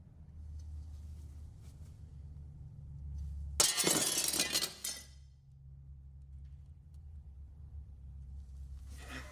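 Glass shatters in a sudden bright crash that tinkles briefly before fading, set against a low steady rumble.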